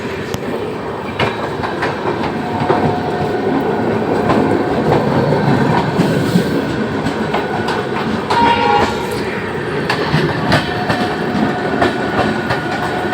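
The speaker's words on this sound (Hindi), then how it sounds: "ये प्रतापगढ़ से दिल्ली की ट्रेन है और ये फास्ट हो चुका है" A passenger train running from Pratapgarh toward Delhi moves at speed, producing a loud, continuous rumble with rhythmic clickety-clack of wheels over rail joints, heard from on board with no talking.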